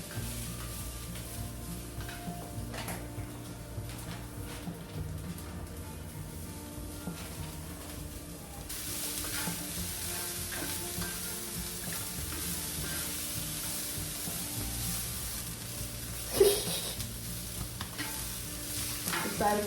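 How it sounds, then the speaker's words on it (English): Broccoli and carrots sautéing in a pan of oil or butter, a steady sizzle with frequent stirring clatter that grows brighter and louder partway through, and a sharp utensil knock near the end; no talking. "So I'm gonna throw the broccoli in and get that sauteing, as well as the carrots."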